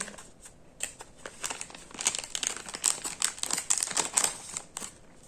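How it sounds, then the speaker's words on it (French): A zip-lock plastic package of stickers is opened, with a dense run of close crinkling and rustling plastic that grows busier and louder midway, then eases off. "Donc, on va ouvrir le zip."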